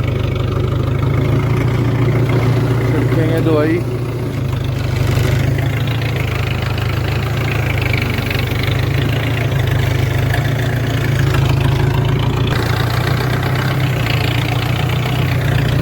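A tractor engine idles steadily with a deep, continuous rumble and vibration throughout, no pauses, close and loud.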